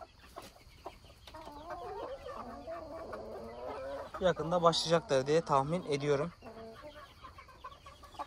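Brahma and bantam hens cluck in soft, irregular bursts, partly under someone talking nearby, with a louder run of calls near the middle.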